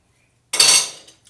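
Dishes clattering in a sink, one loud close burst of clinking crockery and cutlery that rings briefly and fades, with no voices.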